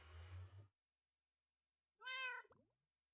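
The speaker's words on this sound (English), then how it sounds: "Despite the cat in the background." A cat meows once in the background, a short harmonic call standing alone after a low hum fades, followed by a brief fainter trailing sound, with near silence between.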